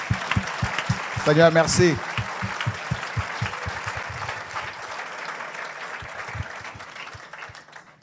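An audience applauds in acclaim of Jesus with steady, rhythmic clapping that runs throughout, strongest early on and then thinning. A voice speaks and briefly sings a tone over the clapping.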